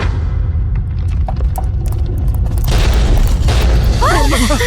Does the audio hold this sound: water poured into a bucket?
no